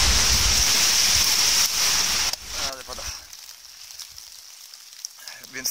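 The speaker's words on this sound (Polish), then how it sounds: "Ale pada." Rain pours down in a forest during a fierce windstorm, a loud, dense patter for about two seconds that then drops to a quieter, sparser drip, with a brief voice nearby.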